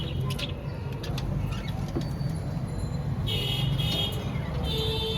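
Soft, low cooing from a diamond dove, repeated a few times and partly buried under steady traffic rumble and outdoor background noise.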